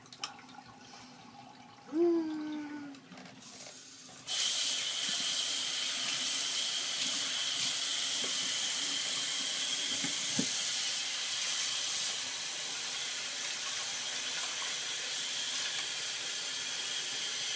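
Water gushes steadily from a tap into a bath being changed, a loud continuous hiss that starts abruptly after a few quiet seconds with small bumps and clunks, and runs on to the end.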